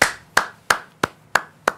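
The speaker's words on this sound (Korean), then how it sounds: "자, 여기서 박수 한번 치겠습니다." Six sharp hand claps ring out close and loud at an even, unhurried pace, each with a short decay and near silence between them.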